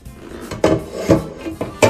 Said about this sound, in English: I'm going to scrape that pan about as good as I can.